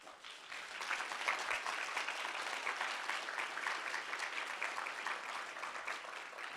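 An audience applauds members of the Congressional Black Caucus at a Black economic forum, with dense, steady clapping that holds at an even level throughout.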